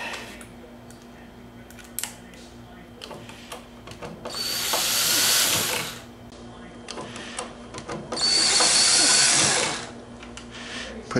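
Little screws driven into a wooden pet crate end table, likely with a power driver: two sustained whirring bursts of about two seconds each, close by, separated by quieter handling clicks and knocks.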